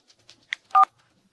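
A phone is dialed in a clinical setting: a few short keypad tones, with faint quick beeps followed by a louder, slightly longer two-tone press, alone in otherwise quiet surroundings.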